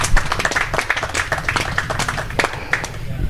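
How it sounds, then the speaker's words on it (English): A small audience claps a short, uneven round of applause at a press conference gathering. Individual hand claps are distinct and come in a lively rhythm over a few seconds. "Round of applause, please."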